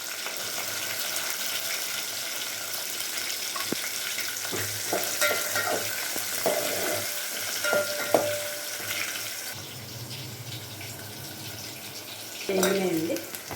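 Onions and chillies fry in a pan, a steady sizzle running under the clatter of stirring, with a voice speaking over the cooking.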